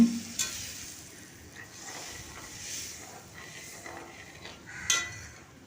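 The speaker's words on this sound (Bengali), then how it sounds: "এরপর ভেজে রাখা ডিম আর আলু দিয়ে দিলাম কুসুমটা বাদ দিয়ে আর দিয়ে দিলাম দু কাপ জল" Fried eggs, potatoes and two cups of water added to a spice mix frying in a pan, giving a faint sizzle with soft stirring scrapes and a couple of sharp clinks.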